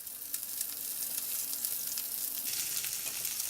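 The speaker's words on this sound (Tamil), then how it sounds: "எண்ணெய் நல்லா காஞ்சிருச்சு. நம்ம நறுக்கின வெங்காயத்தை ஆட் பண்ணிக்கலாம்" Steady, crackling sizzle of chopped onions frying in hot oil for chicken gravy, continuous and close, with no talking.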